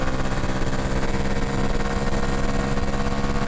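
A CFMoto Papio 125 motorcycle engine drones loud and close, a steady buzzing tone from the small bike as it picks up speed, with no voices.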